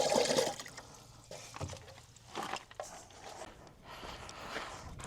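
Water poured from a half-full rain-collection container onto newly planted garden seedlings, an irregular splashing and trickling with soft patters, close by and moderately loud throughout.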